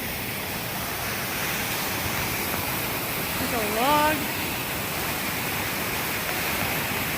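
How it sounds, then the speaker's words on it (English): A steady, broad rush of a waterfall along the Pacific Crest Trail fills the clip, and a person briefly speaks over it. "Look at this waterfall! It is fantastic!"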